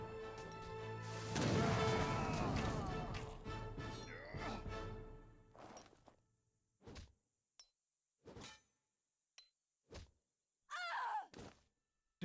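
In Age of Empires III: Definitive Edition, a supply cache is destroyed with a loud crashing collapse of wood and debris. Several separate thuds and whacks follow at irregular intervals, with short silences between them.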